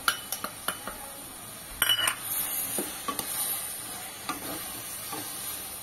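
Carrot halwa being stirred with milk powder in a pan, a spoon scraping and clinking against the metal in a quick run of strikes, then a steadier scraping stir with soft sizzling underneath, close and with no talk.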